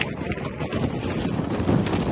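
Strong wind at Manly beach in Sydney buffets the microphone with loud, continuous, low rumbling gusts that last the whole moment.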